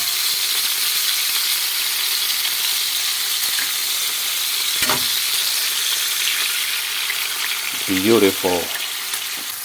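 Eggs frying in a hot pan alongside beef patties for a breakfast cheeseburger, a steady loud sizzle and crackle throughout, with a brief clink and a short spoken remark near the end.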